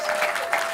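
A brief burst of concert audience applause at a small private radio station show in San Francisco, loud, close, dense clapping with a few sharper swells.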